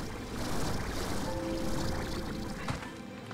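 Flowing water in Slime Rancher 2, a steady rushing, pouring wash of water that stays fairly loud and even throughout, with no talking.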